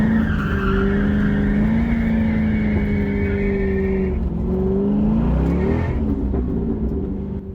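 A C6 Corvette with traction control switched off slides its rear end, its tires squealing in a long sustained howl over a steady engine roar, the pitch wavering as the slide is held.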